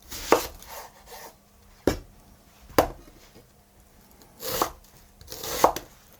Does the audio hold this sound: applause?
no